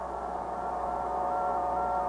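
A steady radio tone from the Explorer 1 satellite transmission hums alone under a wash of hiss, with a second pitch faintly shifting in near the end.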